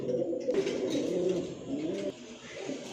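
Domestic high-flyer pigeons coo in low, throaty, rolling calls, close by and continuous, with a brief pause near the end.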